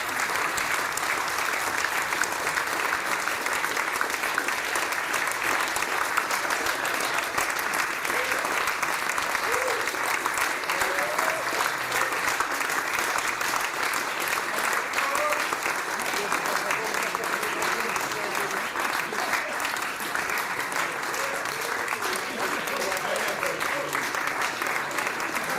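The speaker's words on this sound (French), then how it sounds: "applaudissons chaleureusement notre équipe de juvénile volleyball Division 3." An audience at a school gala applauds a juvenile Division 3 volleyball team, sustained dense clapping filling a hall, steady and loud throughout.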